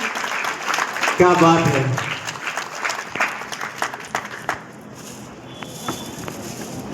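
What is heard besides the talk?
audience applause at school award ceremony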